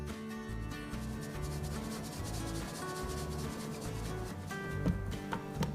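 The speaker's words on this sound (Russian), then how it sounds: "Теперь вводим сухие ингредиенты. Я предпочитаю их просеивать." Dry ingredients for a chocolate cake batter being sifted, a steady close rubbing, scratching rasp that runs continuously with no talking.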